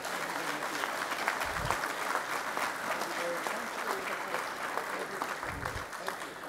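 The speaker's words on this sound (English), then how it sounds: "A big round of applause." Audience clapping at a high-level visit to the Central Bank of Kenya, a sustained dense wash of applause from a room crowd, with a couple of low thumps.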